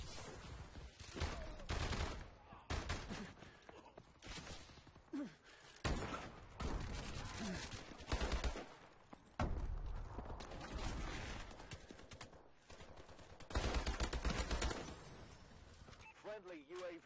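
Dense, loud video game gunfire from Call of Duty: Advanced Warfare, with rapid bursts and blasts running almost continuously and someone talking over the shooting.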